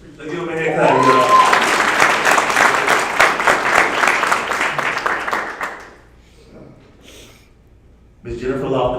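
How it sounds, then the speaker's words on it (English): Graduation audience at a Pitt County ceremony claps for a graduate, a dense burst of many hands that builds and holds for several seconds before fading, followed by a quiet pause and renewed sound as a voice speaks. "Let's give him a hand clap, y'all."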